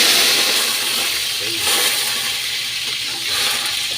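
Garlic sizzles in a hot pan, a steady, loud hiss of frying that holds throughout, with one brief spoken word.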